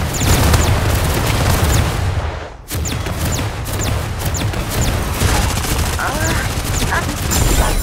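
Bursts of mobile video game gunfire in a mech battle crackle repeatedly, sharp shots and rapid volleys with booming low rumbles, loud and close, briefly dropping out before resuming.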